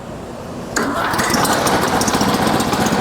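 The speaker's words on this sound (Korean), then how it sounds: "자, 시동을 걸어서 주행을 해보도록 하겠습니다." A vine shredder farm machine's engine catches abruptly and settles into a loud, rough, steady idle close by.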